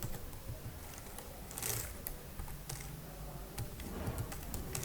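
Typing on a computer keyboard while entering text in an Excel spreadsheet, soft quick clicks in an irregular rhythm, faint and close, with no talking.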